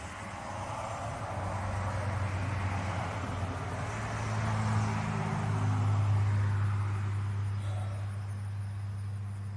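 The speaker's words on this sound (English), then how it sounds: "Sorry about the traffic, guys." Road traffic passes outside, a steady broad rumble that swells as a vehicle goes by and then fades, low droning hum underneath throughout.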